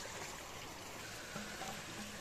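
Water pours and trickles steadily into a pot of rice for cooking outdoors at a local-style riverside chicken roast in Arunachal Pradesh, a soft continuous splashing flow heard up close with faint background noise.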